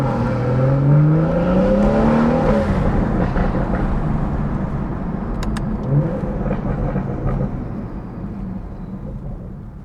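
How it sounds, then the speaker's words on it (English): BMW B58 engine with an MHD tune, exhaust rumbling steadily on the road with a rising whistle of turbo spool and light burbles, close and continuous, with no speech. "And you just get that pure B58 raw sound with turbo spool, of course."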